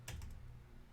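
A few computer keyboard key presses while working in Blender, quick soft clicks close together at the start, then near silence.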